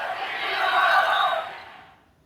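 Basketball crowd at the Boston Garden in 1986 chanting for the Celtics, a massed wash of voices that swells to a peak midway and then fades out, moderately loud.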